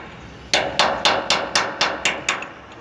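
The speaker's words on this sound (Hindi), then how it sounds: "या हथौड़ा ले लो और धीरे धीरे ऐसे ऐसे टाइट कर लो।" A hammer striking a nut on a tanker wheel in a tractor garage, eight sharp, evenly spaced metallic blows ringing out clearly against a quiet background.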